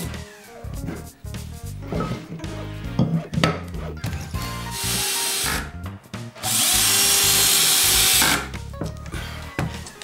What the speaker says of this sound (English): We pre-drill and countersink all of the holes to avoid splitting the jarrah.